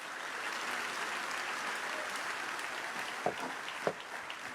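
Church congregation applauding during a Sunday service, a soft, distant, even wash of clapping with a couple of sharper hits near the end.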